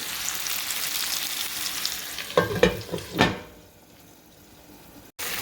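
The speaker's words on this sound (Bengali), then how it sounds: "আমি মিডিয়াম আঁচে এখন চিকেনটাকে খুব ভালো করে কষে নিচ্ছি।" Chicken frying over medium heat for a fenugreek chicken curry, a steady sizzle broken by a few loud scraping stirs, then fading to a quiet hiss before a brief cut.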